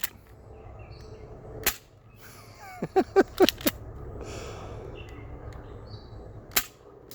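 Gunfire at steel target plates outdoors: a sharp shot near 1.7 s, then a cluster of four or five quick reports and metallic pings around 3 s, and one last shot near 6.5 s, over steady background hum.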